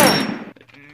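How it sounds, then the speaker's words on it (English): Gunshots fired during a chase in a Mario and Luigi cartoon, a loud blast at the start decaying over half a second, followed by fainter clattering hits. "He's shooting at us!"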